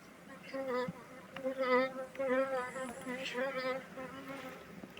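Honeybees from a freshly caught swarm buzz around hive frames at a small apiary. The hum is faint and wavering, rising and falling over several seconds close by.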